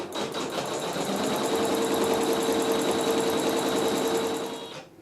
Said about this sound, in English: I will place my optional wool right inside the square and stitch step 2, which is tacking down the wool.